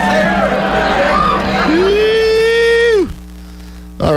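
A crowd at the Missouri Bluegrass Festival cheers and whoops loudly after a live Mercer and Johnson set, with one voice holding a long yell. The noise cuts off abruptly, then picks up again at the very end.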